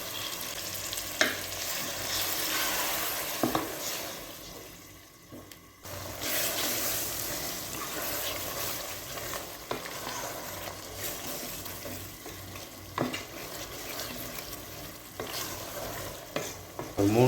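Tamarind water is poured into a simmering okra tamarind curry and stirred, giving a continuous wet hiss and bubbling with sloshing liquid and occasional spoon scrapes against the pot, close and steady throughout.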